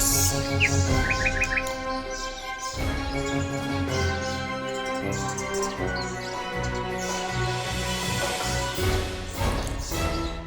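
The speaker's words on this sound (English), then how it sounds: "birds." Birds chirping throughout, with a few quick tweet bursts early on and then an ongoing tangle of calls and song that stays fairly loud and constant.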